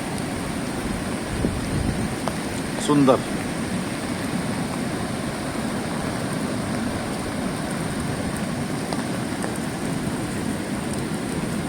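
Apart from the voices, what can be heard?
heavy rain at a beach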